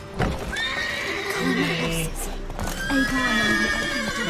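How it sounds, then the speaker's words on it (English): Horses in The Witcher 3 whinny twice at close range, each call rising and wavering, over a low constant game ambience, with a short knock near the start. "Gotta calm all the horses before they wake the guards."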